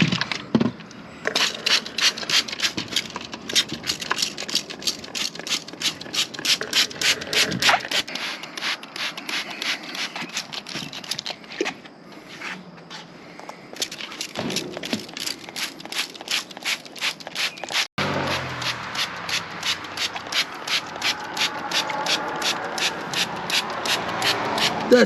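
A handheld spray bottle spraying vinegar onto a wooden deck, with rapid repeated trigger squirts that come in steady bursts with brief pauses.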